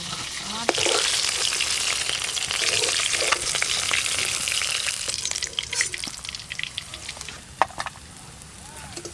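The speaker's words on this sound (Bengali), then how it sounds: "তোমার ডাল বাটতে বাটতে আমার সব মাছ ভাজা হয়ে গেল" Loud, crackling sizzle of fish frying in hot oil, with scattered spatters and pops growing sharper toward the end.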